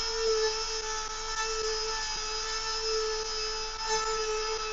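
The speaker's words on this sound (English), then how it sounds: "Might need a new sanding wheel on that." A steady, high-pitched whine of a spinning sanding wheel grinding continuously, loud and close, with no voices.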